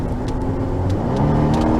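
A 2017 Volvo XC90 T6 AWD Inscription pulls away under throttle, its engine hum steady and close from inside the cabin, a smooth continuous drone with road noise and no talk.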